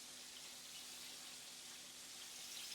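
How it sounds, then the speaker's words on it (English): Water poured into a cooking pot on a stovetop while making yellow rice and black beans, a steady, quiet running splash with no voices. "Add some, add some water to that for me"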